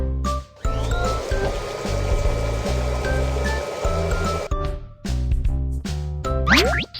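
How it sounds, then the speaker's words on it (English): Cartoon dentist scene with a water gun rinsing dirty water away from teeth: a steady bright gurgling, streaming wash with tinkly chime accents runs for several seconds, pauses briefly, then resumes with a springy boing-like flourish at the end. "Clean away the dirty water."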